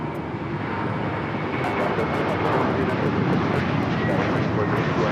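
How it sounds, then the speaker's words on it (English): A Delta Boeing 767-400ER airliner arriving at LAX from Atlanta, its broad steady jet roar filling the air at close range, with brief crackling bursts on top and talk in the background. "Delta Airlines 827 coming in from Atlanta on the 767-400ER"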